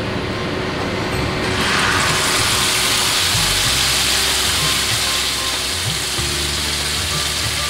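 Sambal paste hits hot oil in a wok with a loud, dense sizzle that holds steady and close throughout, with some clatter of stirring underneath.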